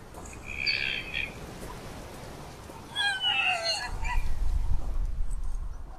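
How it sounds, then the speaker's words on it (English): Crows squawk in the video game The Last Door, two bursts of harsh, raspy calls a couple of seconds apart over a low background drone, fairly close and loud, with no talking. "Are the crows gone? This dying crow."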